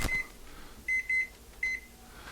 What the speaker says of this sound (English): There's my timer.